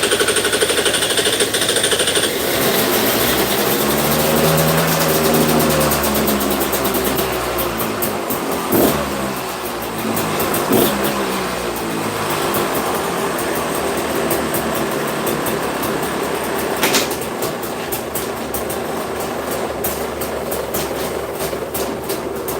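Engine idling with the choke on, a loud continuous rough rumble with a rising and falling tone early on and scattered rattles throughout.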